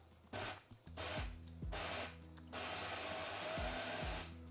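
Countertop blender pulsing lemon chess pie filling with dry ingredients at the bottom, several short bursts of whirring motor with brief pauses between them, then a longer sustained run, close and fairly quiet.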